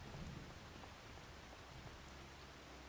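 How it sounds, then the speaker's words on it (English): Steady light drizzle falls in the Farming Simulator 25 video game, a soft continuous hiss of rain on surfaces with no speech over it. "Says it stopped raining, but it's still kind of drizzling."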